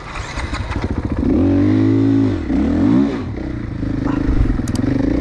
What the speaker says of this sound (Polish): następny motocykl to jest 500 4T